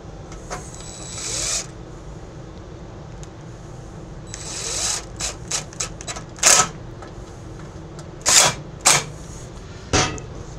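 Screws are tightened by hand on a Murray PRO snow blower, a series of short metallic ratcheting clicks and rattles in irregular bursts over a quiet background hum, close and fairly crisp.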